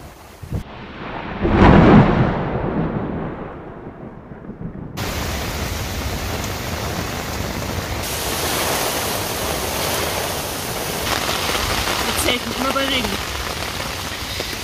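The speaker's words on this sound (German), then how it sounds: "ist das Regen, was da kommt?" Rain rushes over a tent while camping in the Dolomites, a dense, steady hiss of drops on fabric with a heavy rumble of thunder early on and soft voices faintly underneath.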